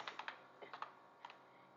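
Quiet typing on a computer keyboard, a quick cluster of light key clicks followed by a couple of isolated taps.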